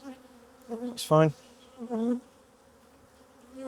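Honey bees buzz loudly in the air around an opened hive after a frame is shaken, a dense droning hum with a near pass swelling up close, heard under brief speech.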